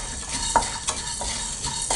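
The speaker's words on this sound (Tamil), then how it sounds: "அதே கடாயில் கடலைப்பருப்பு, உளுத்தம்பருப்பு இது ரெண்டுமே நம்ம ஃப்ரை பண்ணிக்கலாம்" Chana dal and urad dal frying in a kadai, a steady crackling sizzle broken by several sharp metallic spoon scrapes and clinks against the pan.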